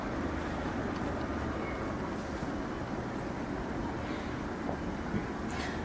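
A Lego Mindstorms EV3 motor running, a steady low mechanical whir and hum continuing evenly throughout, close and fairly quiet, no voices.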